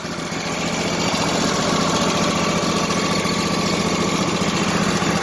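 A Husqvarna YTH2454 riding lawn mower idles just after starting. The engine chugs steadily and loudly up close for several seconds, with a dense even rumble and no talk.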